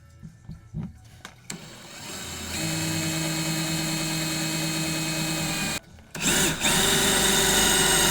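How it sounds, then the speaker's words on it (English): A power drill bores down into PVC on a large holiday model train layout: a steady, close motor whine holds for several seconds, cuts out briefly, then starts again, with no talking. "So hopefully I drilled it down low enough, all the way back, and I touched the PVC."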